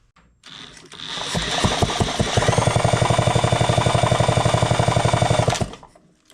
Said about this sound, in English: we'll go ahead and spin this motor and see what it's set at right now